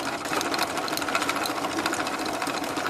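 An electric motor drives the transmission of a 1/6 scale Sherman tank model, giving a steady, fairly quiet mechanical whir with a fast rattling buzz, like a sewing machine, running evenly throughout.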